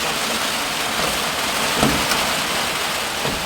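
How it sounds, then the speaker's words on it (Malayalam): Rain falls steadily outdoors during a home cooking session, a constant broadband hiss with a few slightly louder drops, and no one speaking. "അതേപോലെ തന്നെ ഇതിലും ചതിച്ചു മഴ"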